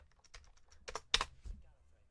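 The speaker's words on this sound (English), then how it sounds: "basically just typing in numbers a lot," Quick irregular bursts of key presses on a computer keyboard as numbers are typed, close and fairly quiet, with a louder cluster of strikes in the middle.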